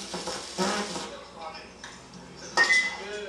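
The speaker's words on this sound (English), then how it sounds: "The ping of the aluminum baseball bat" A sharp metallic ping of an aluminum baseball bat rings out near the end, following a few softer clanks against a low background murmur.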